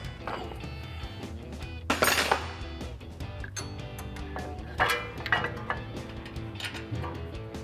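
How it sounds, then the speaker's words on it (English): A brake rotor and caliper are fitted on a 2022-2025 Toyota Tundra with a PowerStop Z36 six-lug truck and tow kit. Loud, close metallic clanks and clinks come irregularly, with heavier knocks at a few moments. "So now we get our caliper hang back up."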